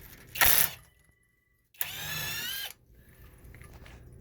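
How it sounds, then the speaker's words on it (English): A high-torque impact wrench loosens the foot of a Lippert RV leveling jack, first a short loud burst, then after a pause a longer steady buzzing run of about a second, close by, with low background rumble between. "Well, I'm using a very high torque wrench."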